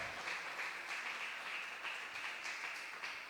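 A church congregation applauds in a steady, dense wash of clapping that holds throughout, somewhat faint and distant, with no clear voices on top.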